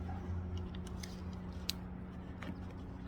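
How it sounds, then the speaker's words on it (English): Scissors snipping through foam insulation during installation of a StyYLL 48v 7500 BTU air conditioner on a roof, a few faint, crisp cutting snips spread over a steady low background hum, without talking. "you can take some scissors or a razor blade and cut"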